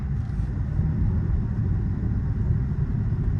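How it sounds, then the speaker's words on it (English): A low, steady engine rumble fills the whole stretch, constant and droning, like a cold car engine idling or running, heard from inside the cabin. "The engine is still cold."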